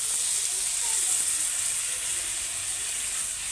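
Water poured into a hot pan of fried fish curry, a steady, bright hiss of steam that carries evenly through the whole stretch at moderate loudness, with no voice.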